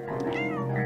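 A cat meowing in the video game Stray, one drawn-out, rising and falling meow heard clearly up close over soft background game audio.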